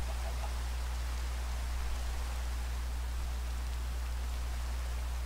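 Steady rain falls in Minecraft running a shader pack, a soft continuous hiss of droplets over a low constant hum, even and unbroken throughout.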